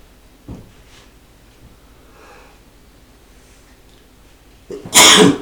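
A single loud, sharp human sneeze bursts out close at the end of an otherwise quiet room, preceded by a faint breath and a small earlier sniff or snort.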